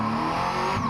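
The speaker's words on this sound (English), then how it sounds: "the battle of the V8 powered Japanese cars" A V8-powered Japanese race car roars past on a circuit in a brief, loud, sustained burst of engine noise.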